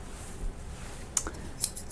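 Black-handled sewing scissors handled in a quiet room, giving a few brief faint clicks and snips near the end over low background hiss.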